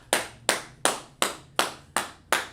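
Hands clap at a gathering in about seven slow, evenly spaced, sharp claps, close and distinct with no talk over them.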